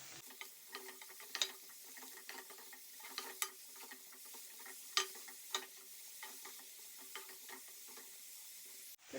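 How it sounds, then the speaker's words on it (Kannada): Chopped mushrooms frying with onion in a pan make a quiet, continuous sizzle broken by scattered light crackles and ticks, with no voices. "ಈರುಳ್ಳಿಯೊಂದಿಗೆ ಫ್ರೈ ಮಾಡಿಕೊಳ್ಳುವ."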